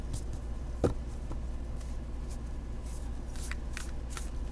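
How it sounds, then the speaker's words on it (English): A deck of Esoteric Buddhism of Japan oracle cards being shuffled by hand, soft papery riffles and flicks close by with one sharper snap early on, quiet and without talk. "it shuffles beautifully"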